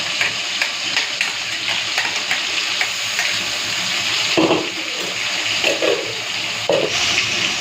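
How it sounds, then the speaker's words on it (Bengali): Tomato and ground spice paste fry in hot oil for a Bengali prawn and potato curry, giving a steady, close hiss throughout with a few louder bursts and scraping stirs near the end. "তেলটা গরম হয়ে গেছে, প্রথমেই টমেটোটা দিয়ে দিচ্ছি। এরপর দিয়ে দিচ্ছি ওই বাটা মশলাটা"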